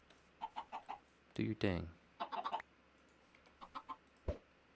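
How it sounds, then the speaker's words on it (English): Blocky chickens cluck in a Minecraft survival world, several short clucks scattered through the stretch, with a person talking briefly in the middle. "Well, we've got 4 chickens now."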